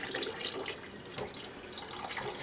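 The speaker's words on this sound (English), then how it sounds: "I have some really nice running water today." Tap water runs steadily into a kitchen sink in an Amish home, a continuous close splashing hiss with no voices over it.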